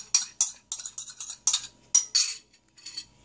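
Beaten egg being mixed into dry ingredients for Nigerian buns, with a utensil scraping and clinking against the bowl in about ten quick rhythmic strokes, close and clear, with no talking.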